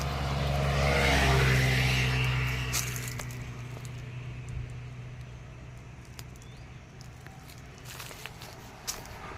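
Vehicles roll past a mango orchard, one passing close and loud near the start before fading, leaving a quieter outdoor background with scattered small knocks and rustles.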